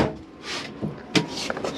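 A cutlery drawer in an Auto Sleeper Suffolk motorhome slides open or shut, giving a short hollow knock and a brief rattle with a few light clatters close by.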